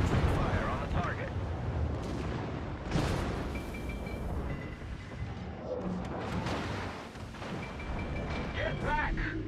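Warship main guns firing in World of Warships, heavy booming salvos rolling under continuous battle rumble, with a brief radio-style voice callout in the mix.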